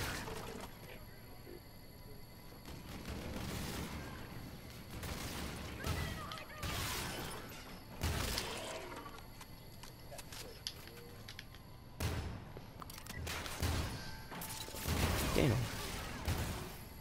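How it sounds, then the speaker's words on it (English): Gunfire in Call of Duty: Infinite Warfare cracks out in scattered bursts and single shots, fairly faint and spread across the stretch, with a voice talking between. "Somebody's taking shots."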